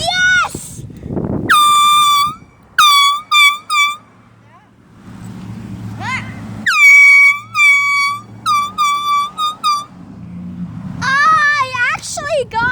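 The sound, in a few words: truck air horn honking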